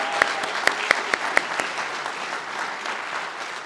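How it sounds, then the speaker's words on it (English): Hall of Fame induction ceremony audience applauding the inductees, a short round of clapping with a few sharp, distinct claps near the start over a steady patter that fades slightly toward the end. "can we have a round of applause for all of the inductees?"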